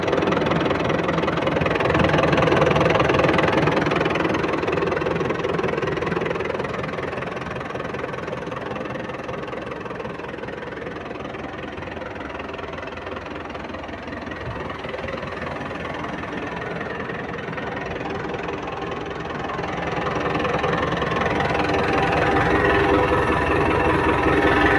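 A tractor engine idling in a steady low rumble for the whole stretch, close by, dipping a little quieter in the middle before rising again, with no talk over it.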